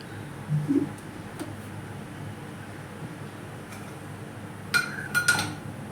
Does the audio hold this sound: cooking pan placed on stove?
yes